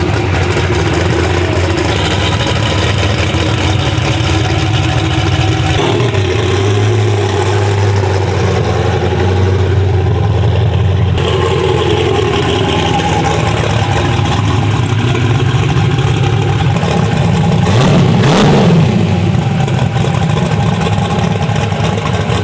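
A 1200-horsepower twin-turbo single-cab truck engine runs loud and close at night, a continuous heavy rumbling drone that swells and rises in revs without letting up.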